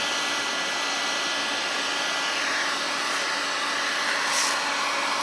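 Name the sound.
Parkside heat gun weed killer from Lidl running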